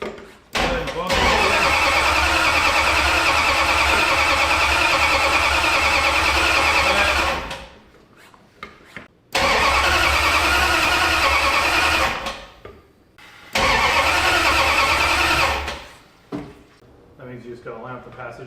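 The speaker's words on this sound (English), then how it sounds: "just gonna bump the starter a few times to move it over a little bit" The starter motor on a turbocharged Ford F100 engine cranks in three loud, sustained bursts separated by short pauses, with talk in the gaps.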